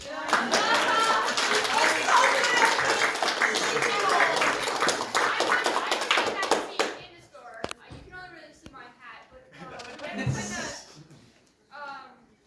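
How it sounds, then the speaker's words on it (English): A theatre audience at a post-screening cast discussion claps loudly and steadily for several seconds, then the applause fades out and scattered voices talk nearby. "if we get another round of applause for Damien as Obadiah"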